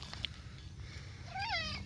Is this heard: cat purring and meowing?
yes